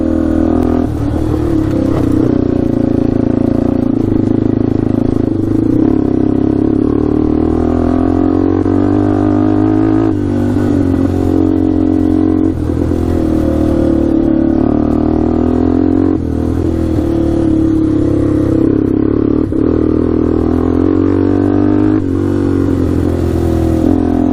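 A cheap 4x4 ATV engine runs steadily and loudly while shifting through gears, its drone rising and dipping in pitch with periodic shift changes and a faint mechanical clatter, no voices.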